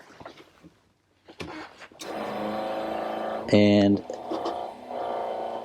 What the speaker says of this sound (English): by actuating this lever for the fuel pump